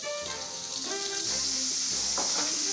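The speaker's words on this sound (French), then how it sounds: "Et je vais la faire revenir dans l'huile d'olive. Je vais ajouter mes herbes." Herbs frying in olive oil in a pan, a steady bright sizzle and hiss from start to finish, close and moderately loud, with faint tonal background sounds and no talk.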